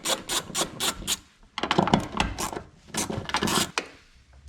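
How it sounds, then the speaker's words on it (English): Screws on a fuel pump assembly for an AEM 340 high flow pump install on an STI are removed with an 8mm socket, a series of quick close ratcheting clicks in short bursts with brief pauses. "grab yourself an 8mm socket and take these screws all off"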